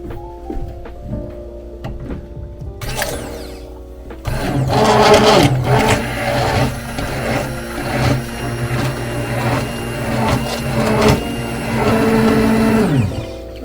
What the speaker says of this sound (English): So you whisk it until it's really frothy